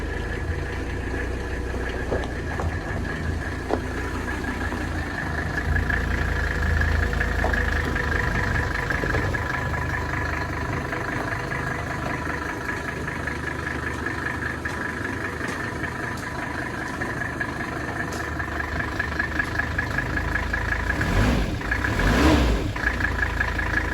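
A 1982 Mercedes 300SD turbo diesel, freshly reinstalled after an engine swap, runs at a steady idle with an even, continuous drone that holds at a constant level throughout, with no voices.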